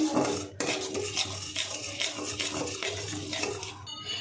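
Sugar caramelizing in a pan for sweet yogurt while a metal spoon stirs it, a run of close, repeated scraping and clinking strokes over a faint sizzle, with one sharp knock near the start and no talking.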